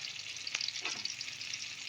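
Banana flower frying in a pan, a quiet, close crackling sizzle with a couple of brief stirring scrapes.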